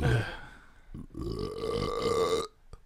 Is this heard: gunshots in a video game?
no